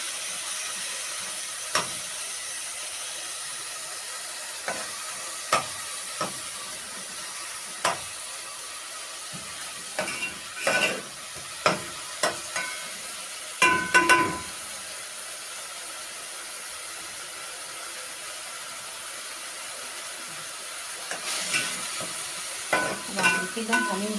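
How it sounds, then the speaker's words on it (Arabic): Onion frying quietly in a pan with a steady soft sizzle, broken by scattered scraping and clinking strokes as it is stirred, with a busier burst of stirring midway and again near the end. "هنحمر البصلة تاخد اللون الوردي الذهبي كده."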